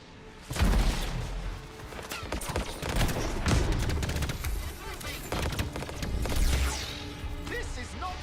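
Gunfire in the video game Anthem as troops shoot at a Strider. Loud volleys and crashing impacts run throughout, mixed with battle noise and faint voices.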